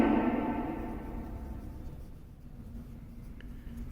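Pen or marker strokes writing numbers for a class five maths lesson, a brief scratchy burst at the start fading into faint soft scribbling against quiet room noise.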